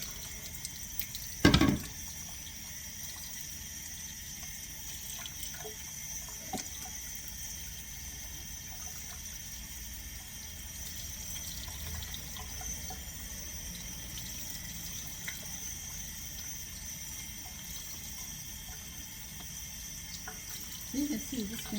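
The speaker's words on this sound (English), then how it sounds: "Now I can rinse them all." Ingredients are rinsed under a running tap in a sink, giving a steady, faint stream of water throughout, with a brief louder splash or clatter near the start and again at the end.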